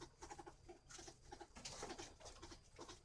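Spotted doves at a breeding farm in northern Vietnam cooing in soft repeated low notes, with several overlapping calls and light background patter, fairly faint.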